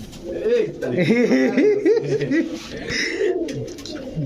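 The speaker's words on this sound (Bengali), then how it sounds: "ডাকটা দেখছেন দর্শক বুদাপেস্ট" A Budapest pigeon coos in repeated rolling calls up close, while someone talks over it in Bengali and someone chuckles in the background.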